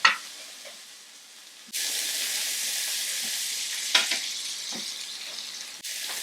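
Spanakopita burgers frying in a pan, a bright, steady close-up sizzle that swells loudly partway through, with a few faint knocks and pops over the constant crackle.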